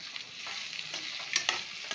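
Salted okra (lady fingers) fries in a pan with a constant close sizzle, with a couple of brief stirring scrapes near the end.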